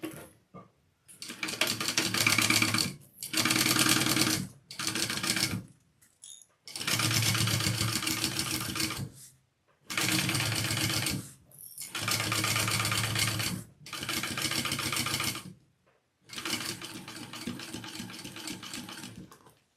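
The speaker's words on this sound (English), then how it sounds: "I'm going to sew that at my full seam allowance" Sewing machine running a seam on a handbag in several separate bursts, each a few seconds of steady close stitching, broken by short pauses.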